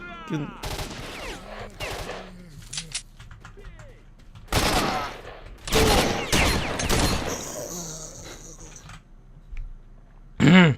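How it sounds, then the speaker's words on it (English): Blowout explosions in the S.T.A.L.K.E.R.: Shadow of Chernobyl video game, several loud booming bursts in irregular clusters with rumbling decays, mixed with talking in between. "blowouts are supposed to be these additional explosions mimicking the original radiation one that are heard and experienced all over the area."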